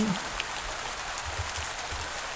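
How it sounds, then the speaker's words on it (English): Steady rainfall in a farming video game, a continuous even hiss of falling rain with faint low rumbles underneath, moderately quiet and uninterrupted. "Are you telling me it's raining?"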